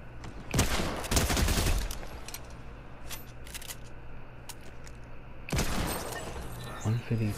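Bursts of gunfire from the video game Fortnite, with dense rapid shots near the start and again toward the end, separated by quieter stretches of background game sound.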